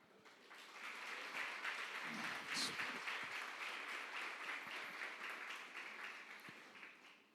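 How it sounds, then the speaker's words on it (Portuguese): A church congregation applauds in a sustained, even wash of many hands clapping, heard from some distance in a reverberant hall, with voices mixed into the crowd noise. "Aplauda o Senhor."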